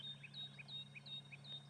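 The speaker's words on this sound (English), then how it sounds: "bird chorus." Birds sing from a distance in a quiet African bush setting: repeated short whistled chirps rise and fall in a steady chorus over a low, constant background hum.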